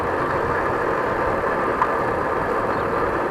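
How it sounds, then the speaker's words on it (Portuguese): A motorcycle engine running in gear with the clutch pulled in, its blown primary shaft bearing producing a steady, loud whine and hum that holds evenly throughout with no talking. "O que está acontecendo com essa moto é que ela estourou o rolamento do eixo primário"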